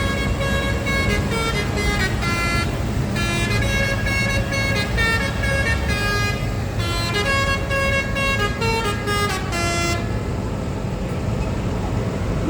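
A bus horn blares in long repeated musical tones through busy road noise, loud and close, at a farmers' protest convoy with tractors and trucks, with no talk.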